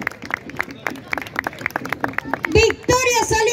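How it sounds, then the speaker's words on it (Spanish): Scattered hand claps from an audience at a folk music gathering patter irregularly, then a child's and adults' voices rise over the end of the applause. "¡Grande el aplauso!"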